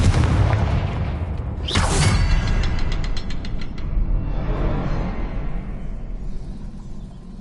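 The Confringo blasting spell from the game Hogwarts Legacy goes off as a deep boom with a bright crackling burst, followed by a rapid run of mechanical ratcheting clicks over a dense, rumbling background.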